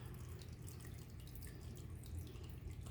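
Steady trickling and gurgling water runs continuously with faint dripping detail, a low, close, constant flow with no voices.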